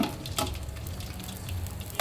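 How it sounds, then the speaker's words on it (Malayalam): Raisins frying in ghee in a pan for fried rice, a steady close sizzle and crackle running throughout at moderate level, with a few brief louder pops and no talking. "വഴറ്റി മാറ്റി വയ്ക്കാം."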